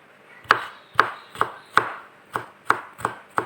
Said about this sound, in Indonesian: Sekarang kita cincang bawang putih untuk bikin sausnya.